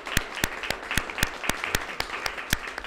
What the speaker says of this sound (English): I think it's good for a round of applause